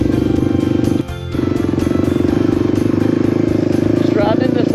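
A Suzuki DR350 dual-sport motorcycle rides through a small open valley, its engine droning loud and steady with a continuous rhythmic pulse and a brief dip near the start, close to the microphone.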